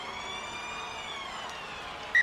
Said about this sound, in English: the halftime siren sounds